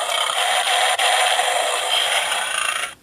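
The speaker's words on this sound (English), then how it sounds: "Get that little slashing noise followed by the roar." Gokaiger DX Gao Lion toy sounding off through its small speaker, a loud, steady, distorted electronic blare lasting about three seconds before cutting off abruptly, close by.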